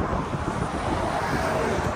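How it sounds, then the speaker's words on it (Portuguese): Strong wind buffets the microphone outdoors on a used Toyota car lot, a steady loud rumbling roar with broadband gusting noise filling the whole stretch. "Tá ventando muito, pessoal."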